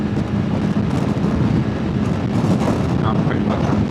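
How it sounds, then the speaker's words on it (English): Heavy wind buffeting a microphone while riding a motorbike fast on a country road, a constant loud low roar and rumble with engine drone beneath, continuous and close throughout. "Hear a lot of wind right here."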